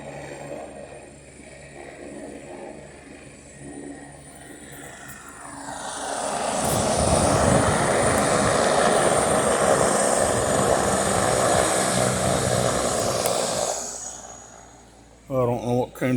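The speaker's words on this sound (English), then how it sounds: "Thought you guys would like to see a helicopter land at a hospital like that." Helicopter landing at a hospital in Fargo, North Dakota, its rotor and engine roar swelling from a distant hum to a loud, steady near wash for several seconds before fading, with a voice speaking briefly at the end.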